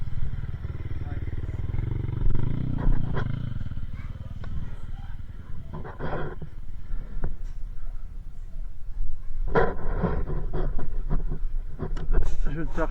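A 450 MT motorcycle engine running on a trail ride, a steady low rumbling idle with occasional rises, close and continuous under people talking.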